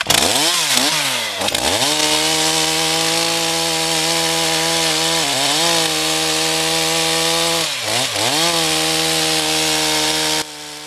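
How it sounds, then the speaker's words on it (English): A chainsaw bores into a tree trunk that has metal embedded in it, running loud and steady at high revs with a few brief dips in pitch as the chain bites and cuts. "I'm going to bore in from both sides behind the hinge, leaving the hinge fibers intact, come up vertically up the trunk"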